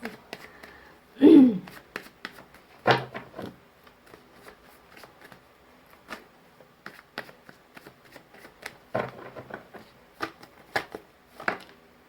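Tarot cards are shuffled during a reading: soft, faint riffles and taps come in scattered, irregular bursts, with one brief louder vocal sound near the start.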